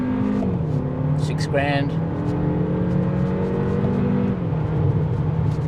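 A 2025 Kia K4 family sedan with an 8-speed automatic accelerating on the road, its engine note rising and dropping through quick gear changes, with a person talking over the drive.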